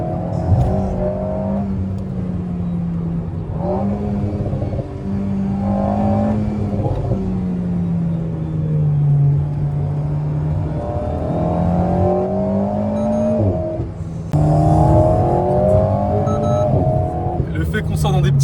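An Alpine A110 sports car engine revs and pulls hard through rising gear changes on a small road, loud and close, with someone talking over it.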